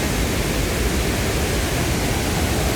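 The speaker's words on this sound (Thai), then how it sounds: "น้ำตกอยู่นี่แต่ว่ามื้อนี้น้ำมันหลาก" A waterfall in flood after heavy overnight rain roars as a dense, constant wash of broadband noise, close and loud with no breaks.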